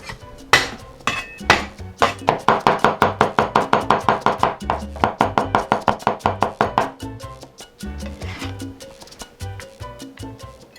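A knife chops garlic on a cutting board in a rapid, steady run of sharp close knocks, about thirty strokes in a burst, then slows to scattered taps and scraping while preparing beef fried rice noodles.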